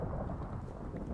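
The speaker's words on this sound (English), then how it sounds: "I think lightning must have hit like the top of my head basically for it to be that loud." Loud, close thunder from a lightning strike in a Minecraft one-chunk challenge, a dense sustained rumble with rain-like hiss filling the whole moment.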